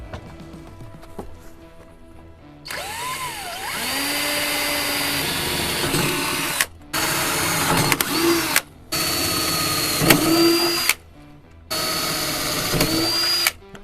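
A power drill whines loudly in several bursts while drilling holes in a Mercedes Sprinter van roof, stopping briefly between holes, with the pitch rising and falling as it bites.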